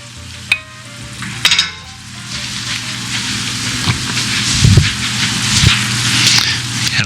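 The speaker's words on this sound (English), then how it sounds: "Add a little bit at a time and mix it in." Flour being stirred into boiling water for churros: a steady bubbling, sizzling simmer with a utensil stirring and occasionally knocking against a pot, close by and continuous.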